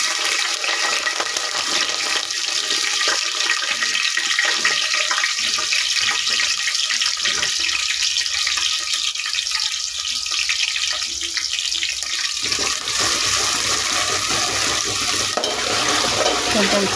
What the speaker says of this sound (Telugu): కొంచెం ఫ్రై అవ్వాలి ఆనియన్స్.